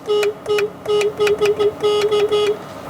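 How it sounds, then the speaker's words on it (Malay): A Honda City RS e:HEV horn sounds in a rapid series of short, loud, close beeps, roughly eight quick toots with brief gaps, alone without talk. "So ini bunyi horn kereta ni."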